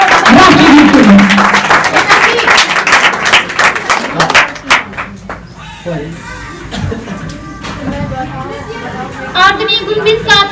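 Audience applause welcoming a performer at a Republic Day celebration in a coaching centre: dense clapping for the first few seconds, thinning to scattered claps and children's chatter, then a brief swell of clapping near the end.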